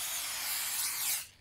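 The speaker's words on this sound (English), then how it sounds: "I have to spray rats?" A spray can hisses steadily in the horror game The Convenience Store as the player sprays rats: one loud, continuous hiss for over a second, then a quick cutoff, with no voices.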